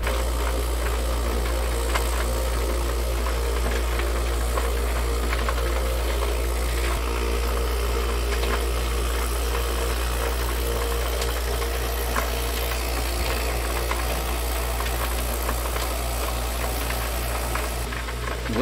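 A Double Barrel Lot-O rock tumbler runs with dish soap added after the 1200 grit stage, giving a constant, loud low hum and rattling vibration that continues without a break.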